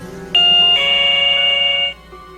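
An electronic entry chime at a gas station shop door rings loud and near, a bright sustained two-tone ding-dong that holds for over a second before cutting off, with no talk.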